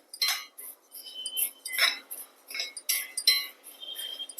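A spoon scrapes and clinks against a heavy-bottomed pan while rice is dry-roasted on low heat, giving irregular metallic clinks and stirring scrapes, close and clear with no talk.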